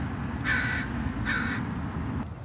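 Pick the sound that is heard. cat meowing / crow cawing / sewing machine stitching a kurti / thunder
crow cawing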